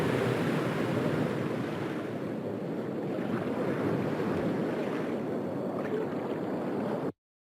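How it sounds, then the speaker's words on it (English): Water released from a dam rushing through a gorge, a continuous broad roar like heavy surf, steady and fairly loud with no voices, cutting off abruptly at the end. "The Emperor's men released water from a dam, flooding the gorge to the east."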